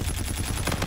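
Rapid automatic gunfire in the Call of Duty: Infinite Warfare video game, a dense, loud burst of shots firing continuously without pause.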